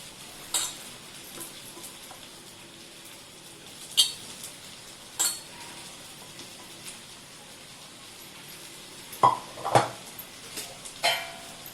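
A spoon scrapes and clinks against a pan as wheat porridge is stirred into jaggery, giving sparse, sharp metallic knocks scattered over a faint background hiss, close and fairly quiet.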